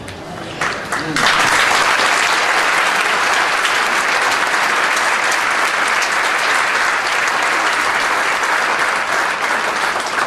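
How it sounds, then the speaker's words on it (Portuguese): After a brief spoken phrase, a church congregation bursts into loud, sustained applause, many hands clapping in a thick, continuous roar that holds steady to the end. "Vocês estão aplaudindo quem?"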